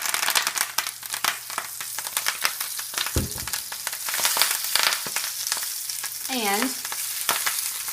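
Torn, destemmed kale sizzles and crackles loudly in a hot oiled pan, with crinkly rustling as the leaves are moved around; a voice speaks briefly near the end.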